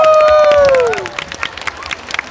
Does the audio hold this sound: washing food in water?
no